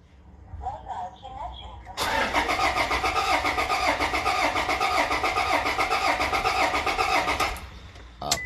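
A Toyota Corolla Altis engine cranks and catches at about two seconds, then runs steadily and loudly until near the end, with people talking before it starts.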